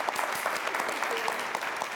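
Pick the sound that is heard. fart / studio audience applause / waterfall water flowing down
studio audience applause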